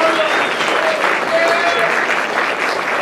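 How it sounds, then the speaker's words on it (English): Steady audience applause fills a film premiere hall, dense continuous clapping close and loud throughout, with some voices mixed in under it. "everyone give Bella Caruso a big round of applause"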